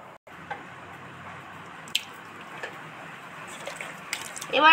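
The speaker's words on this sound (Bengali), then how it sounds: "এবার ভালো করে কচলা কচি করে হলুদ জলের মধ্যে ধুয়ে নিচ্ছি।" Cut raw green banana pieces being rubbed and rinsed by hand in a bowl of turmeric water, soft close splashing and squishing with occasional small drips, fairly quiet and continuous.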